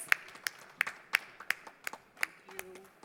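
Sparse, rhythmic hand claps at a panel event, about one clap every third of a second, fairly faint, with a brief tone near the end.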